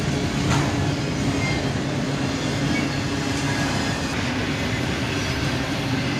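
A freight train rolls past close by, a CSX boxcar mixed among auto racks, with a continuous loud rumble of wheels and rail noise and faint squealing throughout.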